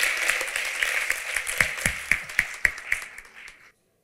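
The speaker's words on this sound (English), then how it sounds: "A big round of applause for each one of them" A crowd at an annual gala dinner applauds steadily, the clapping growing sharper with a few loud claps toward the end before it cuts off abruptly.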